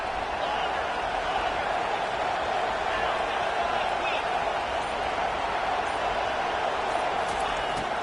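In a college football video game, a stadium crowd keeps up a dense, steady roar that fills the whole stretch at an even loudness.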